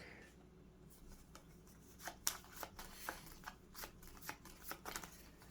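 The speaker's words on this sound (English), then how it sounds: "And we're going to shuffle our human deck." A deck of board game cards for the Skyrim adventure game being shuffled: a series of soft, crisp riffling bursts and flicks in an irregular rhythm, quiet and close, with no voices.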